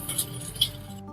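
A spoon clinks lightly against a bowl a few times while stirring sugar into a little water, close and quiet.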